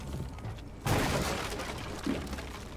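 A sudden burst of sharp crackling blasts, gunshots or fireworks in the game Rainbow Six Siege, over a steady noisy background.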